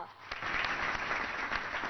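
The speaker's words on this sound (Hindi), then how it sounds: "जोरदार तालियों से स्वागत कीजिए मोहम्मद अजान मीर का" Steady audience applause welcoming a participant onstage at an Independence Day cultural programme, a dense even wash of many hands clapping at moderate loudness throughout.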